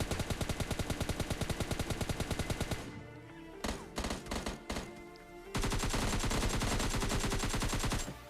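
Automatic gunfire in the mobile battle royale game PUBG Mobile Lite rattles in long, dense bursts, broken midway by a few separate shots and short gaps before another sustained burst resumes.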